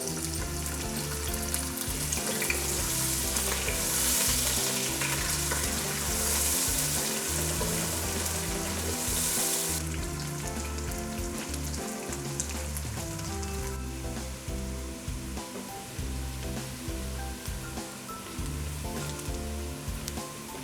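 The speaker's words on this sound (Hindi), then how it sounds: "ऑयल डालेंगे, प्याज शामिल करेंगे," Onions frying in hot oil for jungli pulao, a steady close sizzle and crackle with faint stirring scrapes throughout, no talking.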